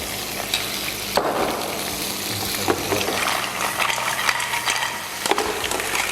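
Garlic frying in a pan alongside shellfish opening up, a steady close sizzle with occasional stirring scrapes and sharp clicks of shells and utensils, moderately loud.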